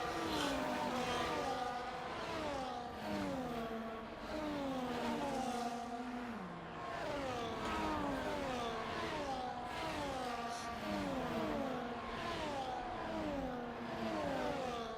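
Sim race cars run down the Las Vegas Strip circuit in an online racing league round, several engines whining and rising and falling through repeated upshifts and downshifts, continuous and fairly close with no voices.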